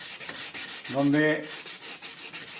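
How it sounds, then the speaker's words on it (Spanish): Sandpaper rubs in quick, steady strokes across a yellowed plastic car headlight lens during fine-grit finishing, a close, rhythmic scratchy hiss with a brief spoken word midway. "hasta que quede bien pulido el área del que estamos lijando"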